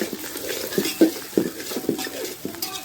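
A spoon scraping and stirring onion, chili and tomato in a pan over a wood-fired chulha, a handful of soft irregular clinks and scrapes close by with faint sizzling underneath.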